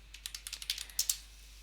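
A short burst of computer keyboard typing during a coding session, about a dozen crisp, close key clicks in an uneven rhythm that ends in quiet, with no speech.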